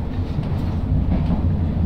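An LRT 1 light rail train runs close by with a loud, continuous low rumble and faint rhythmic wheel clatter.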